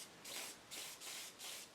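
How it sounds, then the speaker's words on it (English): Four quick bursts of Molly Mist lubricant and protectant are sprayed onto the trunnion of a Delta 10-inch tilting arbor saw, each a close, airy hiss separated by short pauses. "So I've got my molly mist out here, and I'm going to start spraying this stuff down."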